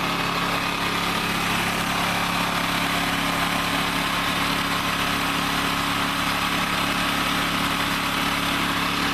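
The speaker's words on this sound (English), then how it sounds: "I just turn the gas valve off, and I'm going to let it run it out" A portable generator engine runs steadily after its gas valve is shut off, burning the remaining fuel, with a constant loud close buzzing drone and no pauses or voices throughout.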